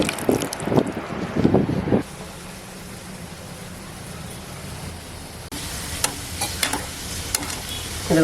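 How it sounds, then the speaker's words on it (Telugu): Amla (Indian gooseberries) fry in a pan over a medium flame while a spoon stirs them, with close scraping strokes and rattles over a steady sizzle that thins out in the middle and then returns. "ఇలా చక్కగా మీడియం ఫ్లేమ్ పెట్టుకొని ఇలాగా గోల్డ్ రంగు వచ్చే వరకు కూడా ఇలా కలుపుకుంటూ వేపుకోవాలండి"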